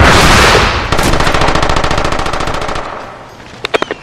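Rapid automatic gunfire from the SOCOM U.S. Navy SEALs video game, loud sustained bursts of evenly spaced shots that taper off, followed by a few separate sharp single shots near the end.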